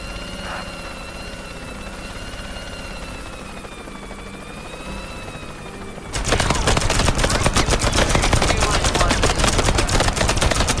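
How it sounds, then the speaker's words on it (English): A helicopter in the artillery game Worms starts up with a dense, rapid rotor chop that is loud and steady for about five seconds, following a stretch of tonal game music and ambience. "Get to the chopper!"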